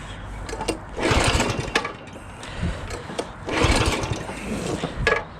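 A Coleman CT200U mini bike's small engine cranks and fires, running in uneven bursts with a rough, rattly drone that rises and falls, close and fairly loud.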